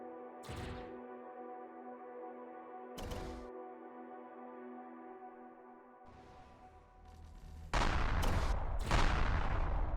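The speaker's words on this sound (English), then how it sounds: "Let's warm the cannons up." Spaceship cannons firing in the Empyrion Galactic Survival game, two sharp separate blasts over a steady electronic hum, then a dense burst of rapid heavy shots that grows louder toward the end, with no talk.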